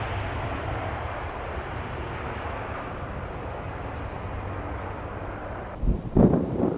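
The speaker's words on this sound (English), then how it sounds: "The reverse thrust mechanism's already out on the plane, spoilers are up." A jet airliner lands at Stansted Airport in a gusty crosswind, its engines roaring steadily in reverse thrust with spoilers up, a broad loud rush under wind buffeting the microphone, then rumbling bursts near the end.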